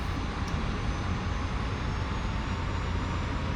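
Jet engine throttling up in a dogfighting flight game, a steady, dense roar of engine noise sustained throughout with no speech over it.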